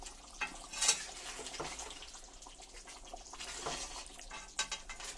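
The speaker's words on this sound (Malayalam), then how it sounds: "നന്നായിട്ട് ഇളക്കി ചേർക്കുക." Handi chicken curry stirred in a pot, soft wet scraping and sloshing with a few clinks of a spoon against the vessel, quiet and steady with no talk.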